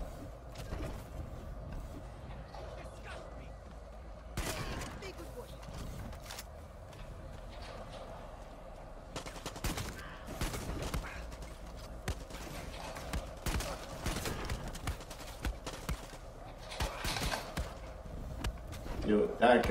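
Gunfire in the Far Cry 6 video game, scattered bursts and single shots spread across the scene among other in-game noises, with a voice talking over it at times.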